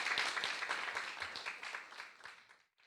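Audience applauding at a music education seminar, a dense steady patter of many hands clapping that gradually thins and fades out to silence at the end.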